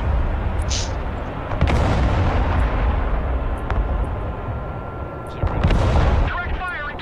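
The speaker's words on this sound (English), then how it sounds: "Artillery ready to fire." Artillery fire in the video game Broken Arrow: dense, continuous rumbling booms and blasts fill the clip, with a louder burst near the end, while voices talk over the battle.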